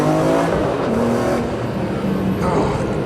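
Race car engine at Cadwell Park, around 2004, accelerating hard in second gear on a damp, grippy track, a loud continuous rising and falling engine roar close to the microphone throughout, with a brief tyre-squeal edge.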